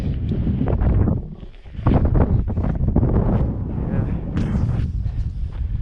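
Wind gusts across frozen Lake Rosseau at an overnight lake trout ice-fishing camp, buffeting the microphone with a loud, steady roar that swells and dips throughout.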